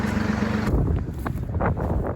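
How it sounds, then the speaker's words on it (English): Wind buffeting an outdoor microphone on a goat farm, a rough rumbling gusty roar that rises and falls over a couple of seconds. "It's a little windy today."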